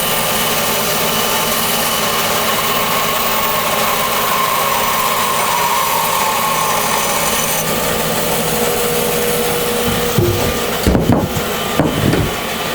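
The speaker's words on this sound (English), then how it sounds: "So we're going to take it to the bandsaw and cut it up." A bandsaw cuts through an old wooden fence post, a loud continuous whine and rasp of blade in wood, ending in a few sharp knocks and clatters near the end.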